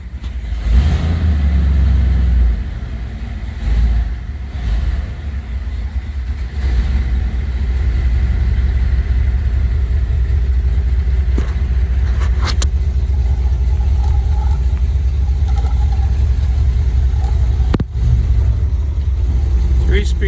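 A 1958 Edsel hardtop with a three-speed manual and overdrive rumbles steadily at idle, its low, loud engine and exhaust note filling the scene, with a brief rev near the end.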